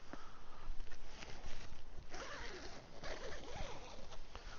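A zipper on a lightweight tent rasps open or closed in several short, fast strokes, amid rustling of fabric outdoors with faint birds.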